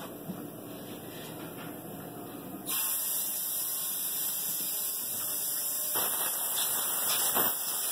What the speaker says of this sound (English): So what I do is I use the air hose.